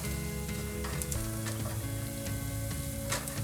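Spices and onions frying in hot oil for a vegan potato soup, a steady, dense crackling sizzle with occasional stirring, close and continuous, no talk.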